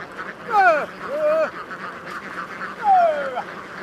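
Sea ducks being herded on tidal mudflats quack and honk in a few loud, nasal bursts, clustered near the start and again toward the end, against a quiet outdoor background.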